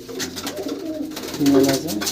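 Punjab tournament pigeons in a loft collection, cooing in soft low repeated calls, a louder coo near the end, with voices talking alongside.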